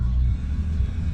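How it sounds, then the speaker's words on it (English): A truck engine idles at a drive-thru in Maine, a steady close low rumble holding an even level for a moment with no speech over it. "keep the truck running"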